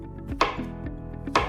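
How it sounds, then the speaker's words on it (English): A knife cuts a banana into slices on a board, two sharp taps spaced about a second apart with faint soft slicing between them, close and clear with no talk. "I'm just going to cut them into slices"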